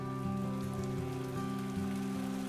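Rain falls steadily on a surface, with a dense patter of close drops under a low tonal hum. The sound stays even and unbroken throughout, with no voices.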